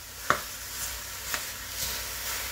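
Ground pork or sausage meat fries without oil in a pan as a spatula breaks it up, giving a faint steady sizzle broken by a few soft scraping strokes.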